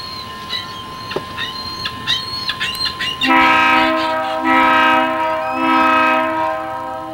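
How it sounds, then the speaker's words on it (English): Rattling clicks of a train on the tracks near Lake Winnipesaukee, then a loud, sustained horn blast that sounds in several long pulses nearby. "Train takes you all around Lake Winnipesaukee."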